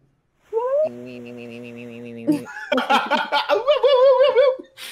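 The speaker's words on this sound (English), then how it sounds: "What was that cat?" Synthesized cat meows sound as a quick run of short, warbling electronic cries after a sustained chiptune chord, in the space finale of the handheld game Sonic the Hedgehog Pocket Adventure.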